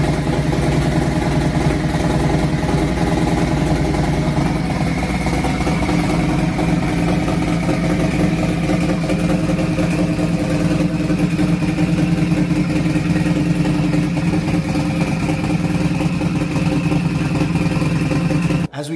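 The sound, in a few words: Harley-Davidson motorcycle with DIY turbo kit idling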